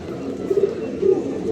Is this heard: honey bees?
no